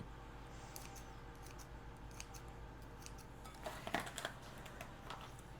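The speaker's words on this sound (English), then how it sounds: "I'm just going to take the scissors and just kind of chop it." Kitchen scissors snip fresh dill for a cheddar bacon ranch potato salad, a string of small, close, crisp cuts with a short quick cluster near the end, no voices.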